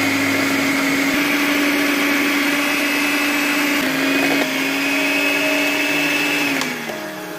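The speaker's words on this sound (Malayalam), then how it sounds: "എന്നിട്ടിത് നമ്മുടെ ബീറ്റർ ഉപയോഗിച്ച് നന്നായിട്ട് പതപ്പിച്ചെടുക്കാം." An electric beater whisks eggs for a soft banana cake, a loud steady whirring motor whine that shifts pitch as it works and drops near the end.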